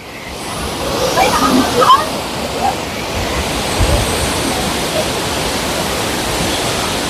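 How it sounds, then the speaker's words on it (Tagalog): Steady broad rush of tall waterfalls in Croatia, a constant roar of falling water with faint wind over it, heard from a viewing spot nearby without strong peaks. "Ayan yung waterfalls."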